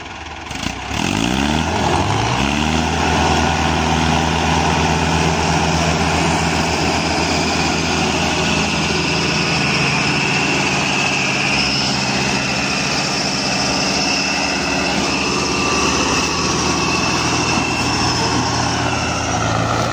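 Tractor engine hauling a loaded sugarcane trailer up a steep slope, a loud, steady, close diesel drone that holds for the whole stretch with no talking.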